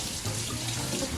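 Tap water runs steadily over canned black beans being rinsed in a sink, a continuous close splashing hiss.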